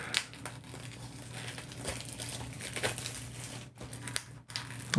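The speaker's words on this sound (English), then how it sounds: "Gotta take off the plastic." Plastic wrap is torn and crinkled off a packaged 4K Blu-ray set, close crackling and rustling with a few sharper rips at a quiet level.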